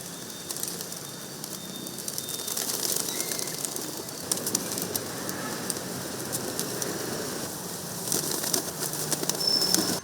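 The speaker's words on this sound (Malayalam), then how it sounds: "നൂറുകണക്കിന് പ്രാവുകളുടെ കുറുകലും ചിറകടിയും" Temple pigeons in the courtyard of Thirunakkara temple in central Kottayam, a steady cooing murmur from a large flock with occasional wing flaps, continuous and moderately loud throughout.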